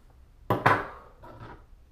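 Fluorocarbon fishing line snipped close to the knot, two quick sharp clicks close together followed by a fainter pair of small snips, near and quiet.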